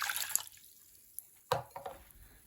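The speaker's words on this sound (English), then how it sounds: "I'm going to add like 1 cup of water" About a cup of water poured into a cooker for a homemade okra keratin hair treatment: a short splashing pour, then quiet, then a few sharp drips and clinks, close and fairly faint.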